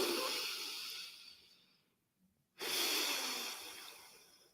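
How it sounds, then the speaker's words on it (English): Two long, deep breaths, a slow inhale fading out, a brief pause of near silence, then a strong, close exhale or second breath that tapers off; no talking. "now is a great time to breathe."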